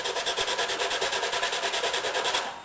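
Body filler on an NES console case being cross sanded by hand, a close, rhythmic scraping rasp with rapid, even back-and-forth strokes that slow and fade at the end.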